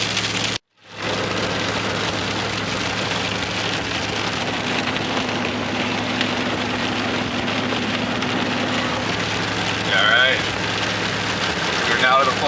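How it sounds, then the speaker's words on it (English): Rain mixed with snowflakes splatting steadily on a car windshield during an Iowa-to-Minnesota storm chase, a continuous close patter over a low idling engine hum, with a brief break near the start and slightly louder bursts toward the end. "snowflakes mixing with the rain here and seeing bigger splats on the windshield"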